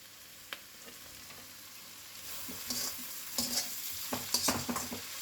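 Spring onion and vegetables stir-frying in a pan for chicken chow mein, a quiet sizzle that builds with scraping and tossing clatter in the second half, no voices.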